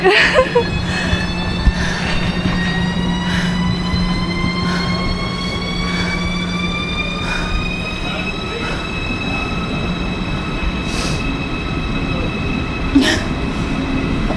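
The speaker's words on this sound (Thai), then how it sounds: "ราไปรถไฟไปสนามบินมิวนิก" Train to Munich airport running, a steady loud rumble with rising whining tones and occasional squeals, continuous throughout without talk.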